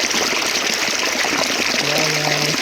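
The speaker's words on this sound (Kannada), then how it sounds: "ಕೆರೆ ನೀರು ದೇವ್ರುಗಳೇ. ನೋಡ್ರಿ ಎಷ್ಟು ಅಷ್ಟಾಗಿ ಹೋಗ್ತೈತೆ ನೋಡಿ." Lake water gushes into a farm field, a loud, close, continuous rushing flow with a steady splashing texture, and a faint voice or tone rises briefly near the end.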